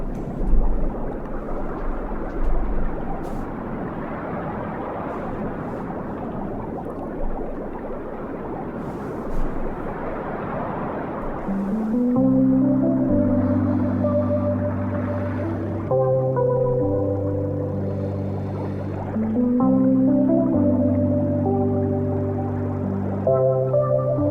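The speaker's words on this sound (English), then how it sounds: "I love that you're hearing the sound of the water being underwater, the cavitations of the bubbles around the microphone" Water rushes and bubbles around a submerged microphone in a dense, churning wash, and then sustained musical tones come in over it.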